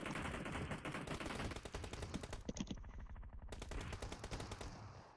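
Rapid automatic gunfire in a mobile battle royale shooter, PUBG Mobile, fired in long, loud bursts with a brief pause midway before the shooting resumes.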